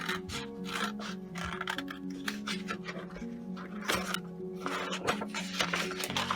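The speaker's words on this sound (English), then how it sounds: "you can then cut out up to the line and cut around the pattern that you want to make" Scissors snip out a paper pattern for a light-changing fabric craft: quick, repeated crisp cuts and rustling, close and steady, over soft background music.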